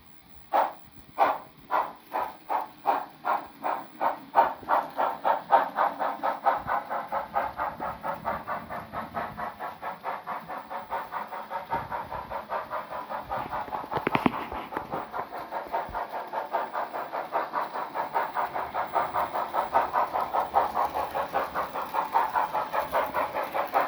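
A Bachmann John Bull HO scale model locomotive, a Pennsylvania Railroad replica fitted with a Soundtraxx Econami DCC sound decoder, chuffs in distinct steam beats. The beats speed up into a rapid, continuous close rhythm, with a brief whistle-like burst midway.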